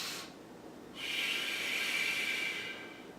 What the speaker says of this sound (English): I take a deep breath through my nose.